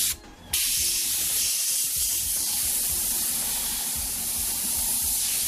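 An airbrush sprays paint in a continuous, close, airy hiss that starts after a brief pause and holds steady with no talking.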